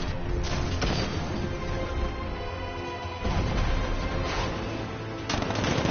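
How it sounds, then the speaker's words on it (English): A tank's 60mm cannon fires in a Batman video game, with about three loud, booming blasts spaced a couple of seconds apart over dense, continuous rumbling action noise. ".60mm cannon operational."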